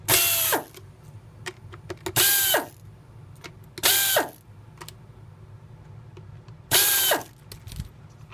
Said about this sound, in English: So we're going to remove those screws. I have a pneumatic screw gun, makes it fast.